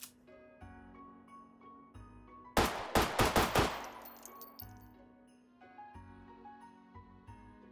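Small .32 ACP pistol firing inside the VR shooting game Hot Dogs, Horseshoes & Hand Grenades, a rapid burst of about eight sharp shots with metallic ringing and tinkling, set against soft background music.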